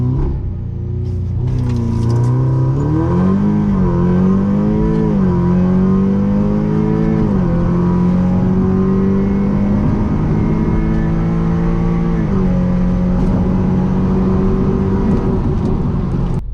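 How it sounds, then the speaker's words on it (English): A stage 2 MK2 Audi TTS with a carbon fiber intake and GFB DV Plus diverter valve revs hard and accelerates, its engine note climbing steadily through the gears, loud and close and steady throughout. "This is with the front noise door open on the intake."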